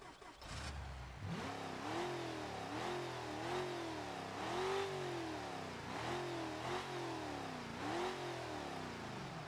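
A V8 car engine in BeamNG.Drive, fitted to an old wagon with twin exhaust pipes, revs hard and repeatedly in loud rising and falling surges after starting, the engine alone and close.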